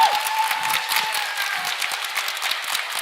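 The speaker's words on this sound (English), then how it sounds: "And the crowd's cheering." Spectators at a girls' high school swimming preliminary meet keep up steady applause and cheering, a dense, even wash of clapping from a crowd with a faint whistle-like tone at the start.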